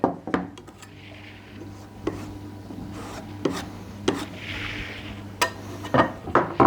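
Scraping and smearing strokes of a tool spreading homemade wood putty of pine sanding dust, glue and filler varnish on wood, interspersed with sharp taps and clicks, close and fairly loud.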